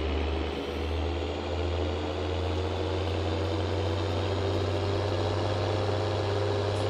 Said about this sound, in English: I think probably the most impressive sounds I've heard on an FS modded tractor has been these Deutz-Fahrs